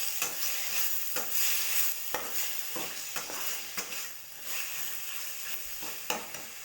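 Chopped tomatoes frying in a pan for fish curry, with a continuous close sizzle broken by repeated stirring scrapes at irregular intervals.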